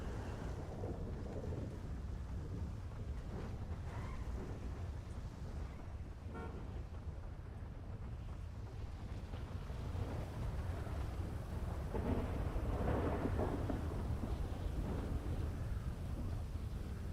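Thunderstorm in a role-play video game, with a constant rumbling wind-and-storm bed, deep low booms swelling in the middle and near the end, no talking.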